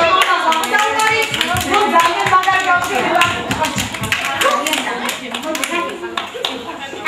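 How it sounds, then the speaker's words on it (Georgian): Children clapping for each other at a fourth birthday party, sharp uneven claps with some fast bursts, close by and mixed with voices chattering and talking over them throughout. "ბავშვო ერთმანეთს უნდა დაუკრათ ტაში"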